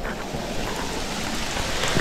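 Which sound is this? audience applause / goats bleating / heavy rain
heavy rain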